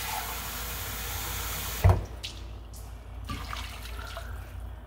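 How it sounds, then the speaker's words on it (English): Water runs steadily from a tap into a dumpling and mashed potato mix, a continuous rushing that stops abruptly with a clunk, leaving quieter handling sounds. "I'm gonna put a little bit more water in this mix."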